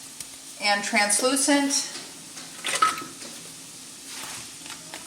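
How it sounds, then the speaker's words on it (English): Vegetables sauté in a pan for a bean and ham bone soup, giving a light sizzle with clinks and scrapes of a utensil against the pan, while a voice talks over it. "we're going to get this all sauteed"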